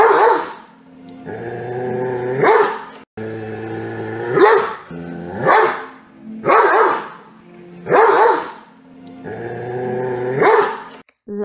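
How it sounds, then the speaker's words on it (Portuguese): A Doberman barks repeatedly at close range, loud deep barks with a growling edge coming in a steady series of about eight, spaced roughly a second apart, with no other sound. "Latido de cachorro doberman."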